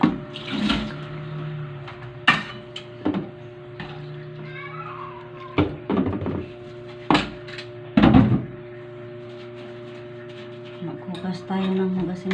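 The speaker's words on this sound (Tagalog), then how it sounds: "maghugas muna ako ng hugasin" A kitchen tap runs while dishes are washed at a sink, with intermittent clinks and knocks of dishware over steady water flow, and a person talks at times.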